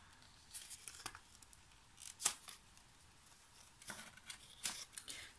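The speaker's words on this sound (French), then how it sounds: "je vais essayer d'ouvrir quand même le papier" Paper wrapping on an advent calendar item is opened and torn, a few soft, quiet rips and crinkles spaced out over several seconds in a calm room.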